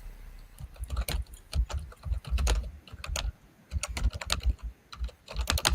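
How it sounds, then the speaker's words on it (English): Someone types steadily on a computer keyboard nearby, a fairly loud, irregular run of clicks with short pauses between bursts and no talking. "She's typing away there."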